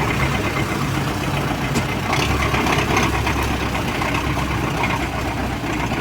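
Vehicle engine running steadily while being towed, a loud continuous low rumble close by with no breaks.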